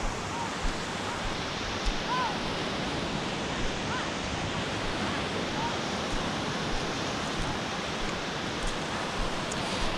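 Ocean waves break on a sandbar beach at Old Orchard Beach in a steady, dense roar of surf and wind, with no distinct separate crashes.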